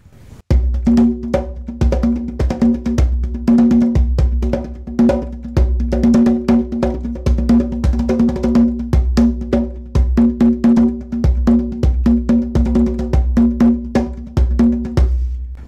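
Dense, irregular hand drumming with no steady 4/4 pulse, loud and close, strikes tumbling in shifting clusters with ringing, bell-like overtones and no repeating pattern, played alone.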